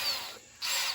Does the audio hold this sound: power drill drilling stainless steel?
yes